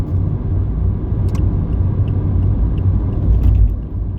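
Car driving along a quiet 45 mph road with a truck following behind, a continuous low road rumble and tire noise from inside the cabin, steady and loud with no speech.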